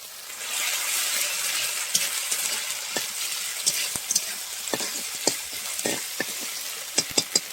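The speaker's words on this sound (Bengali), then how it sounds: "আদা পেঁয়াজটাকে ভালো করে ভেজে নেব।" Ginger, onion and green chili paste frying in a pan for a rohu fish and potato curry, a steady sizzle broken by repeated spatula taps and scrapes that grow more frequent toward the end.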